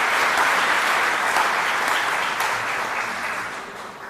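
Audience at a civic association annual meeting gives a sustained round of applause, a dense wash of many hands clapping that stays steady, then gradually thins and fades toward the end.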